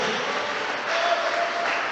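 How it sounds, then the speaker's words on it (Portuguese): A church congregation claps in steady, lively applause throughout, dense and close with a slight swell toward the end, no talking over it. "as palmas bem alegres exalta e glorifica o nome do Senhor"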